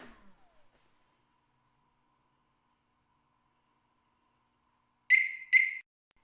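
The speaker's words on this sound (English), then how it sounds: "two beeps means it's armed" Two quick, bright electronic beeps in close succession sound from a Harley Davidson Smart Siren II alarm on a 2015 motorcycle, arming after several seconds of near silence.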